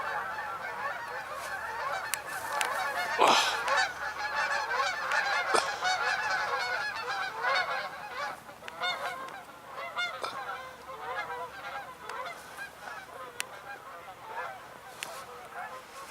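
A flock of geese honks continuously in the Big Coulee, many overlapping calls at moderate distance, some birds overhead, loud and busy throughout.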